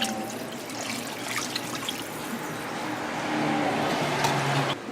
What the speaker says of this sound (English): I'm adding a little more water because we need a little more water.